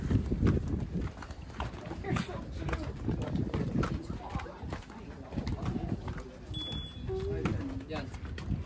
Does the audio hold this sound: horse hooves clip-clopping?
yes